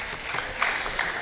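Brief burst of crowd applause at an FFA ham and bacon sale auction, steady clapping from the audience for a buyer, moderately distant and lasting just over a second.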